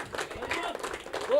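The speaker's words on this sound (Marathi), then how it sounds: "एकदा जोरदार टाळ्या होऊन जाऊ द्या" Audience claps at a cricket tournament prize distribution, a short burst of scattered hand claps from a crowd, fairly faint and mixed with voices.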